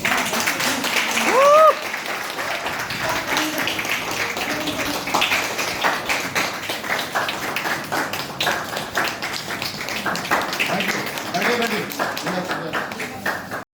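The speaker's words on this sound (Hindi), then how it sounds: "दोस्तों तालियां अपनी होनी चाहिए।" Applause from an audience at a one-day marathon training workshop, crisp close clapping that runs steadily for over ten seconds, with a voice cutting in briefly early and scattered crowd noise underneath.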